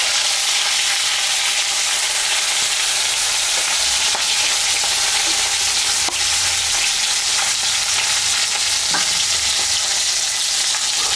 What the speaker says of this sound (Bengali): মাছটা ভাজা হয়ে গেছে, আমি এখন মাছটা তুলে দিলাম।